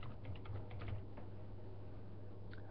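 A computer keyboard is tapped in a short burst of quiet, close keystrokes while a billing zip code is entered, followed by a soft hum and a couple of faint clicks near the end.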